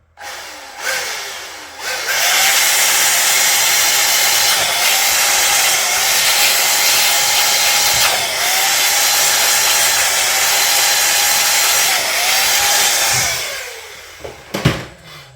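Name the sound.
small air gun blowing on Nintendo Switch board to dry it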